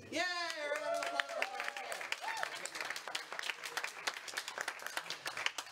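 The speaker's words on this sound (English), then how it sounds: "Round of applause" An improv showcase audience bursts into applause and cheering: a few excited voices whoop at the start, then dense crisp clapping from a crowd carries on steadily until the end.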